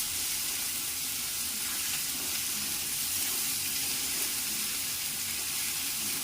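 Green chillies dropped into a hot pan of spice paste for a Bengali plantain flower dish, giving a steady close sizzle and hiss that keeps going with no voices.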